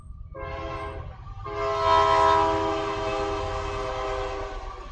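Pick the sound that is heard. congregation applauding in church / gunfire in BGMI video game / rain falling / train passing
train passing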